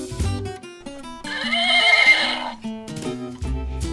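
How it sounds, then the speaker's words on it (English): A farm horse neighs loudly in a long whinny, with a few shorter snorts and nickers around it and no talk. "The horse says nay, nay."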